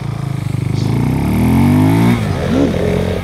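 Motorcycle engine revving hard while a rider practises wheelies, pitch climbing steadily as the throttle opens, then dropping and surging again; loud and close, no talk.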